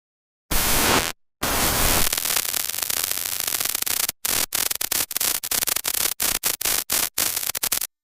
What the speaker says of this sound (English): the computer sent a chaotic, unpredictable stream of electrical noise, a static shock of information